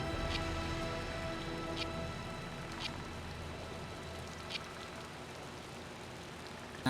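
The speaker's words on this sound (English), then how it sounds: "Ah, the sweet sound of rain under the gun." Soft, steady rain patters continuously at low volume inside a video game, a faint even hiss with a few brief sharper ticks.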